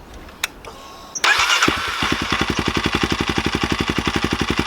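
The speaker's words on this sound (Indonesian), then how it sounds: "ya enak banget ini knalpotnya" After a few quiet clicks, a local trail motorcycle with an aftermarket exhaust cranks and fires, then settles into a close, loud, loping idle with an even throbbing beat.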